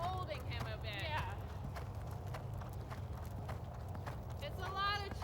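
Horse hooves drumming in a steady cantering rhythm in a training barn, moderately close, with a voice talking over the footfalls and a few brief higher sounds between.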